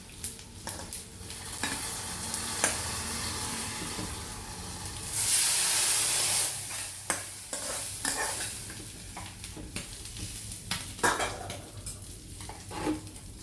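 A hot fried mixture poured from the stove into a curry pot produces a loud sizzling hiss that swells midway and then fades, surrounded by stirring scrapes and sharp clicks of utensils against the pot.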